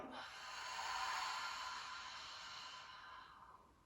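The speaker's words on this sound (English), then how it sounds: "deep breath in through the nose. Open your mouth, exhale." A long, airy exhalation through an open mouth during a prenatal yoga breathing exercise, swelling and then slowly fading over several seconds, close and soft with no speech.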